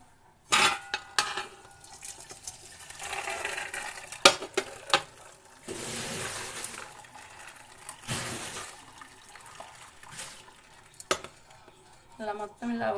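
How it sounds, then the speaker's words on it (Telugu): Boiled horse gram is strained, with scattered metallic clinks of a utensil against a pot and a couple of bursts of pouring, splashing liquid, fairly close and intermittent. "ఇప్పుడు వీటిని వడగట్టుకుందాం."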